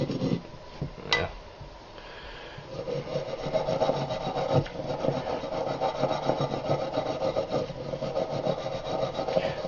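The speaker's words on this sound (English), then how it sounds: "I'm just lightly scrubbing. And you see, it removes a lot more." A brush lightly scrubbing residue off a gun part during cleaning, heard as a close, continuous dry rasping and rubbing with brief scratchy bursts, steady and fairly quiet, with no voices.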